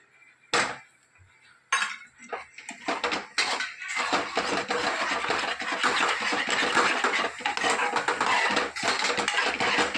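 Curd goes into roasted tempering in a pan with a few metallic clinks and scrapes, followed by a steady, fairly loud sizzling and stirring clatter.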